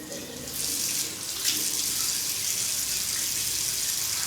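Running water from a tap splashing steadily into a sink while a face is washed at night, a close, continuous hiss with slight shifts in flow and no talking.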